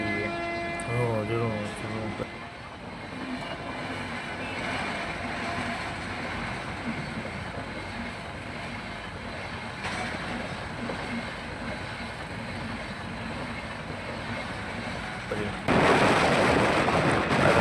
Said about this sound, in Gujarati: ટ્રેન જો આવી કેટલી સ્પીડમાં છે